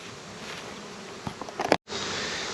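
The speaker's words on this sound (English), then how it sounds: "This was a brand new hive with some shook out bees and a Saskatraz queen." Honey bees buzz in a dense, steady hum as they are shaken off frames at a new hive with a Saskatraz queen. A few sharp knocks are heard near the end, followed by a brief dropout.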